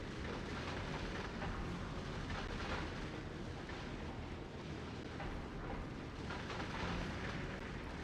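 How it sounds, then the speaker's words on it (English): Explosions in Factorio: Space Age as turrets fire on attackers, a dense, continuous rumble of overlapping blasts and crackling debris at moderate distance with no clear pauses. "They are exploding."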